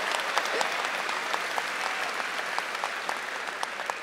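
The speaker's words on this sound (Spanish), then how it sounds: "Un aplauso" A studio audience applauds steadily, a dense wash of clapping at moderate level that holds throughout without talk over it.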